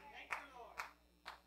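Church congregation clapping hands in a few sharp bursts, three distinct claps or clap clusters spaced about half a second apart, fairly faint, with a voice murmuring underneath.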